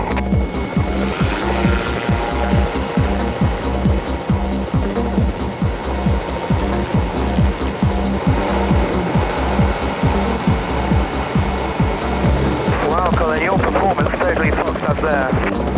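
Helicopter engine during an aborted takeoff at a runway, a loud, continuous engine roar with rapid rhythmic blade thumping throughout, with a voice briefly heard near the end.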